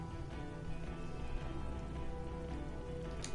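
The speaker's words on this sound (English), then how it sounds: "The great district hums in the falling rain." Rain falls steadily in the video game Disco Elysium, a dense, even hiss of drops with no voices and only a small flicker near the end.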